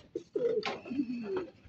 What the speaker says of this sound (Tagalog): Ingal na ingal si Red Checkered